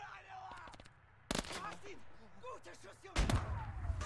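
Battlefield combat in the WWII strategy game Call to Arms: Gates of Hell, with scattered shots and then two sharp, loud blasts from a grenade and gunfire, while voices call out underneath.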